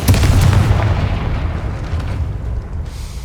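Confringo fire spell exploding in the Hogwarts Legacy video game: a loud, heavy boom with a rumbling low-end blast that decays gradually over a few seconds, with no talking.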